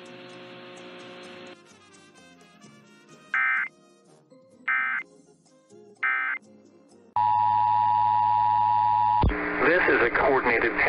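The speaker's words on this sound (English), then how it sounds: "The following tones will conclude this test." Emergency Alert System test tones closing the 2023 Great Pacific Northwest ShakeOut earthquake drill broadcast: three short beeps after a fading tone, then a long steady two-tone alarm followed by a harsh burst of data noise.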